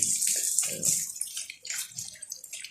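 Water is poured and splashed onto bricks to wet them, a close bright spattering in uneven bursts with short gaps, lighter trickles between the heavier splashes.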